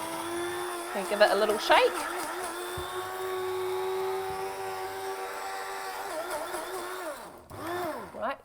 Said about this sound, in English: pop that all in there and we'll whiz it up.